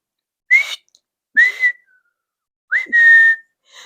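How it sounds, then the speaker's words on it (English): Three clear whistled notes with gaps between them, each a bright rising or sustained tone, the last held longest; no other sound around them. "He sprang to his sleigh, to his team, gave a whistle."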